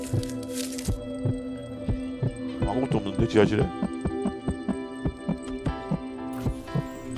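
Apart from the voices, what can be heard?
heartbeat sound effect in Roblox horror game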